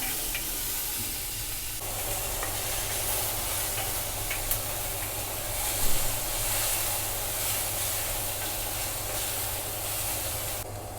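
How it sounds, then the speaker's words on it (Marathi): Chopped onion fries in a pan while being stirred, giving a steady sizzle and hiss with occasional scraping stirs over a continuous low kitchen hum, no one speaking. "आता कांदा बघू शकता मी थोडासा एकदम गोल्डन कलर येईपर्यंत परतून घेतलेला आहे"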